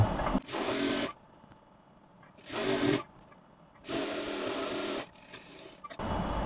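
Sewing machine stitching a petticoat side seam with a half-inch allowance, running in three separate bursts of steady buzzing stitching with short quiet pauses between them, fairly close and alone.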